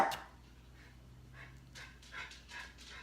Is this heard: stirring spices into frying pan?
no